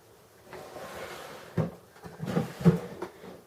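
A makeup storage drawer in a beauty studio slides open with a soft scrape, followed by clattering and knocking as products inside shift, close and fairly loud.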